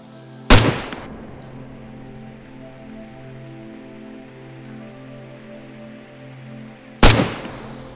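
Two sharp, loud gunshots in DayZ Standalone, spaced several seconds apart, each a sudden crack with a short decaying tail over a steady ambient rain-like background hum.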